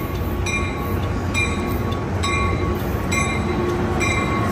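An Altamont Corridor Express passenger train rolls steadily into San Jose Diridon station, a continuous loud rumble of wheels on rails with periodic high squeals and clanks.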